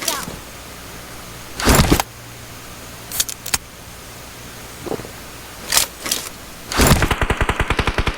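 Gunfire in the PUBG battle royale game on the Livik map: several separate sharp shots crack out over the first seven seconds, then a rapid automatic burst of evenly spaced shots runs to the end, fairly loud with no talking.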